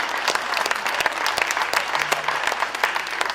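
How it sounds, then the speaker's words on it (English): A crowd at a Nevada political rally breaks into a steady round of applause, dense clapping filling the space at close range with no voices standing out. "Let's give them a big round of applause for everything they're doing"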